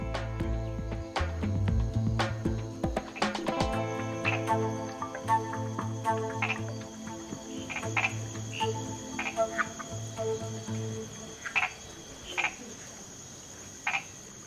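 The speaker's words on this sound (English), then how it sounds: "Lodge manager Adolfo Quesada likes to present the tropical frogs to his guests by torchlight" Tropical frogs call at night in a Costa Rican forest, loud pulsing croaks repeating in bursts over a constant layer of chirping insects and higher frog whistles, near and clear with no talking.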